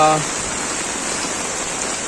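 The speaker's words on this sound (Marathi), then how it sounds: "पूर्ण पाऊस हे बघा." Heavy rain pours down steadily around Manvelpada lake in Virar as a dense, even hiss; a short voice opens it briefly before the downpour continues alone.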